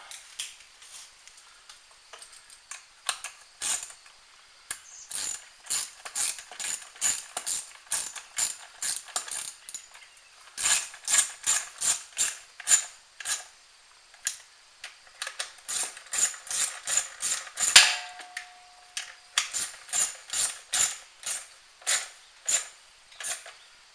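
A ratchet with a 10 mm socket tightening carburetor bolts, giving repeated bursts of quick clicking pawl strokes with short pauses between, close and fairly quiet, with no voices.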